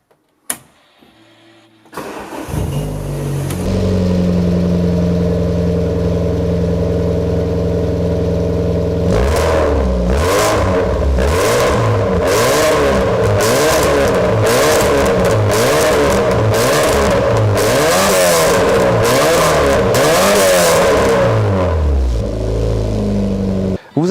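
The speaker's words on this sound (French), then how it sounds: "entendre ce magnifique 4 cylindres 2 litres avec 8 bougies" A 2.0-litre four-cylinder Alfa Romeo Superberline race car engine with eight spark plugs idles roughly, then is blipped through a rapid series of loud, sharp revs up close.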